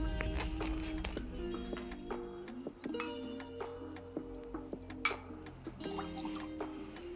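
Simple syrup is poured for a tequila cocktail with lemon juice, a soft trickle of liquid into a glass or jigger, joined by short clinks and drips at a close, quiet level.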